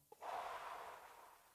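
A single audible breath, drawn in then let out, on its own with no talk, fairly close and soft, fading gradually over about a second and a half.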